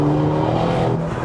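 A 387hp turbocharged front-wheel-drive Vauxhall Corsa accelerating at about half throttle in third gear, a loud close engine drone holding a steady pitch through the short burst, no talk.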